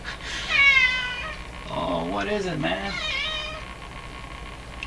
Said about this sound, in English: I'm gonna have to go and play with my cat because he's upset at me now